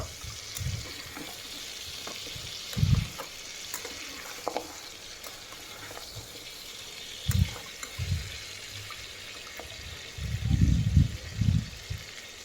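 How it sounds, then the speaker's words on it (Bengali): Beef and whole medium potatoes fry in oil as they are stirred, with a constant sizzle and several heavier, low scraping and sloshing bursts of the stirring, clustered near the end. "এবার এটা আমি সব একসঙ্গে ভালোভাবে নেড়ে ছিঁড়ে নেব তেলের ওপরে"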